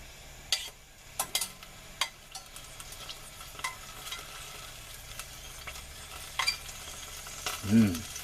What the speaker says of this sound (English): Sizzling cicadas.